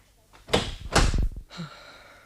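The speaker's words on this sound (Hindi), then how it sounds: "मैं सामने का दरवाजा बंद कर देती हूँ।" Front door being closed indoors, a couple of close wooden knocks and a rattling thud followed by a softer latch click.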